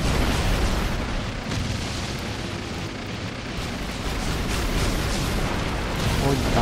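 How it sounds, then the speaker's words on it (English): Bombs go off in Naruto Shippuden: Ultimate Ninja Storm 4, a dense, continuous roar of booming blasts that swells and rumbles throughout, with a player talking over it. "Bombe."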